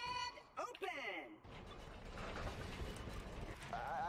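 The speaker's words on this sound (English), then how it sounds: "The diamond horse I've been telling you about." Hooves clop from Butt Stallion, the diamond horse in the game Borderlands 2, a quick run of clopping beats amid game sounds, with a voice speaking at the start and end.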